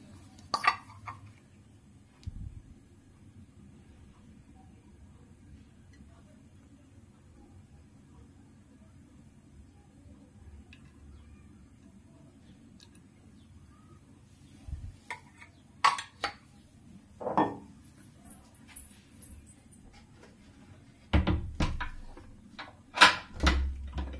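A pressure cooker is set on a gas stove while cooking tahari: a long quiet stretch broken by scattered metallic clinks and knocks of pots, growing more frequent and clustered toward the end.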